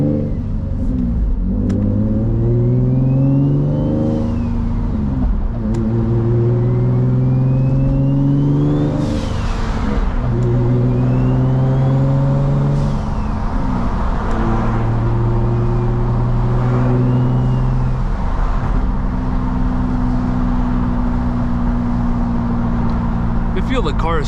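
A 500-horsepower Infiniti G35 drives at night, its engine loud and close throughout as it revs up and shifts through gears over and over, each rise in pitch ending in a drop.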